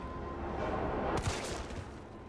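Video game gunfire bursts out in a sharp, loud volley about midway through, standing out against a steady noisy background.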